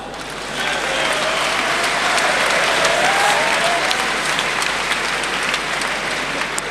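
A badminton crowd at the 2007 French Open men's semi-final applauds, the clapping swelling in after a moment and holding as a broad, sustained roar across the arena, with faint commentary underneath.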